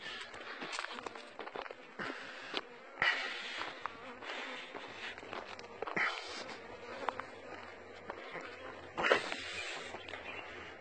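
Honeybees buzz around beehive boxes outdoors near the springs and villages of Taqarbouzt, a steady, fairly faint droning with a few louder passes as insects fly close.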